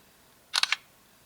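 A single LG G2 phone's simulated camera shutter clicks once in a quick triple-burst snap, crisp and close, standing alone against a quiet room hush.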